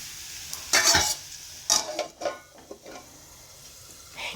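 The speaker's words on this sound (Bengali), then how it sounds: "এখানে পেঁয়াজ কাঁচা লঙ্কা সব রকম সবজি একটু ভেজে নিচ্ছি" Onion, green chilli and mixed vegetables fry in a pan at home, with loud scraping bursts from a spatula and a faint sizzle between them, then quieter, sparser stirring.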